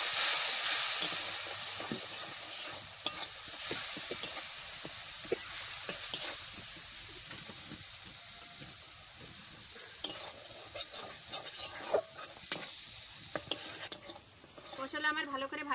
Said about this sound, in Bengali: মশলা আমার ভালো করে ভাজা হয়ে গেছে